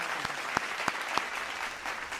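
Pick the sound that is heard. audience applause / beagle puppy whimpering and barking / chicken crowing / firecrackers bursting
audience applause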